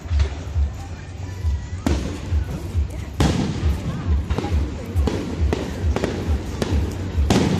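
Fireworks explode on bonfire night outdoors, with several sharp bangs at irregular intervals over a constant low rumble and crowd noise, and voices talking nearby.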